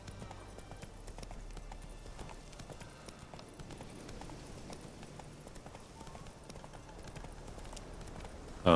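Roach the horse gallops in The Witcher 3 video game, hooves clip-clopping in a quick steady rhythm, fairly faint beneath other game sounds.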